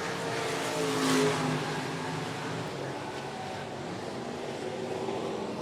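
Race car on a speedway oval, engine droning past at a distance with a swell of volume and a rough, uneven note suggesting popping, under the roar of the field near the end of a race.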